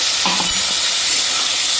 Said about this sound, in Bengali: সবজিগুলো সব ভাজা হয়ে গেছে দিয়ে দিচ্ছি রাঁধুনি কালো জিরা কাঁচা লঙ্কা আর আদা